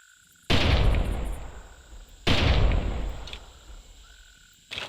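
Two loud, sharp gunshots with long decaying tails in the video game Carnivores, spaced nearly two seconds apart over quiet insect-like ambience, with the start of a third at the end.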